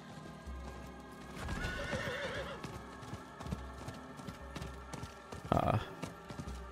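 A horse in Diablo IV neighs and whinnies amid clip-clopping hoof sounds near a hut, with a loud whinny burst late on over a busy game soundscape and some talk.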